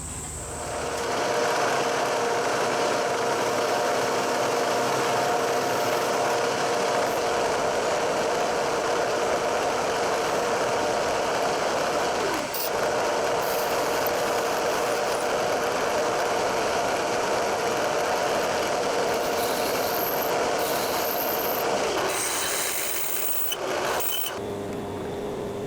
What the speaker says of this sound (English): What I need to do now is drill a hole in the side of the casting for the exhaust port